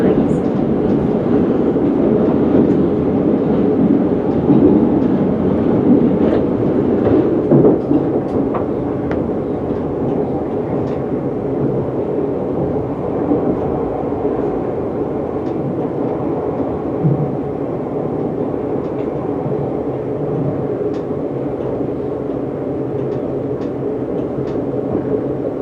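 Electric train on the Watford DC Line running at reduced speed over worn track, a steady rumble with faint clicks heard from inside the cab.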